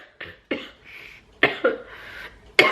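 A single person coughs repeatedly, dry and close, in short irregular bursts with a throat-clearing quality and brief pauses between fits.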